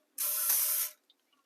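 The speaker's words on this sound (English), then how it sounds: "Gonna spray the pan with that." Cooking spray is sprayed onto an air fryer pan in one steady, close hiss lasting under a second, followed by a few faint clicks.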